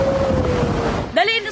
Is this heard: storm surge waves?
yes